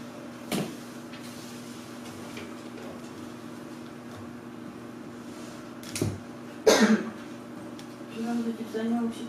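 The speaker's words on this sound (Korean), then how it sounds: "혹시 바람 추우신 거 아닌가? 기침하시던데." A congregant coughs during a church service, a few brief muffled coughs in a quiet room with faint background hum and scattered small sounds.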